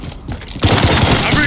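Gunfire bursts out in Call of Duty Modern Warfare during a capture-the-flag match. A short lull gives way to loud, rapid automatic fire layered with mechanical clatter, and a voice shouts over the shooting.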